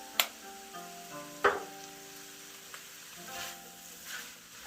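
Chili oil drips into a hot pan of Thai pineapple fried rice, giving a soft steady sizzle with a couple of sharp clicks of utensils against the pan.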